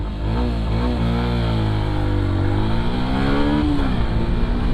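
A Yamaha FZS V3 BS6 motorcycle accelerates hard nearby, its engine note climbing in pitch then dropping at each gear shift, repeating through several rising sweeps with steady wind rush.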